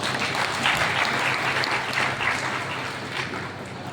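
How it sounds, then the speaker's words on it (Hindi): An indoor audience gives loud, dense applause at a women's business meeting, sustained throughout and easing slightly toward the end. "तो एक बार अपने लिए जोरदार तालियां बजाओ"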